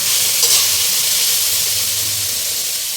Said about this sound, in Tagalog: Paghalo-haluin lang.